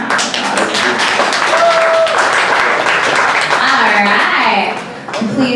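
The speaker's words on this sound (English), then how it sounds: "please give another round of applause for someone I'm very excited to see here" A crowd at a live poetry event applauds loudly, with dense clapping and a few cheers that fade near the end, as a voice speaks over it.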